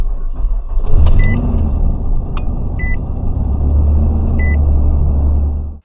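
A Nissan Frontier V6 from 1997–2004, choked by a clogged pre-catalytic converter, runs with a loud, steady low rumble close by, while a few short electronic beeps sound over it.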